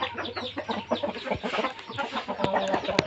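Several fighting-cock breeding roosters cluck in short, busy bursts on a farm, close and fairly loud, with overlapping calls from other chickens.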